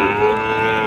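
A horned bull or cow at a rural cattle market in Naogaon lets out one loud, close, sustained moo that fills the whole moment with no talk over it.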